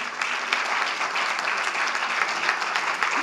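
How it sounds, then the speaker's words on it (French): A crowd at a metropolitan council meeting applauds steadily for a few seconds, a dense, even patter of many hands clapping with no voices standing out. "On peut les applaudir tous."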